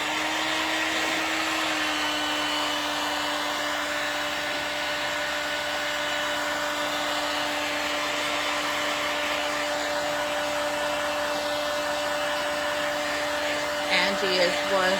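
A heat gun warming a rustic cottage-style craft piece gives a steady, loud blowing whine with a constant tone throughout, close by, with a brief clatter near the end.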